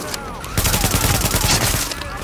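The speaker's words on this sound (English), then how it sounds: "This AK has like no recoil." In a video game, an AK rifle fires in a rapid sustained burst, dense and loud for nearly two seconds, with a voice faintly mixed underneath.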